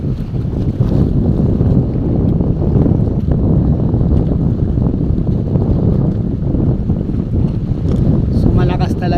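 Strong northeast monsoon wind at a port buffets the microphone in a steady, loud roar, with water and boat noise underneath and no clear talking.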